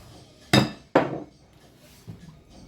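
A metal whisk lifted from a mixing bowl of lemon cake batter, giving two sharp clinks in quick succession and a fainter knock afterward, with no talk over them.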